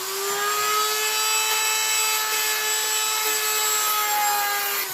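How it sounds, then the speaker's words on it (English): Dremel rotary tool grinding a taxidermy coyote form for a howling black-phase mount, a loud steady high-pitched whine held for the whole stretch with slight pitch dips as the bit bites in, close and with no talking. "I gotta take a little bit out with my Dremel tool."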